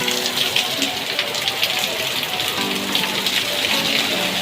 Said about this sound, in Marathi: पाऊस खूप चालू आहे